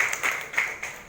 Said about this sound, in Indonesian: Tepuk tangan dong sekali lagi untuk IWS.